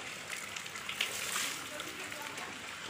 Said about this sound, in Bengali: আবার দেখছি তো আবার বৃষ্টি হচ্ছে